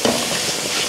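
Ground spice powders roasting and being stirred in a pan of masala for a sardine roast, giving a steady, soft sizzle with faint scraping throughout and no talk.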